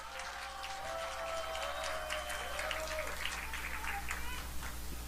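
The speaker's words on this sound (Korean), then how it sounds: "우리 김문수 대표님한테 큰 박수 한번 보내주시면" An outdoor rally crowd applauds a party leader, giving a moderate, diffuse patter of clapping under a steady low hum, with a voice calling out over it.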